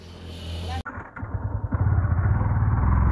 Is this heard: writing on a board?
no